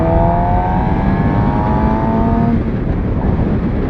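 Motorbike engine revving steadily while being ridden, a continuous loud drone with rising harmonic whine and constant wind and road rumble throughout.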